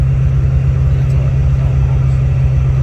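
A car with an LS1 engine idles high at around 2000 rpm, a steady loud low rumble that stays constant and close with no voices over it.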